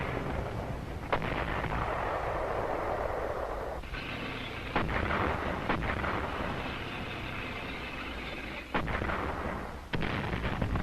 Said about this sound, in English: Their advance was retarded, however, by well-organized defenses, including artillery and mortar fire from cliffs.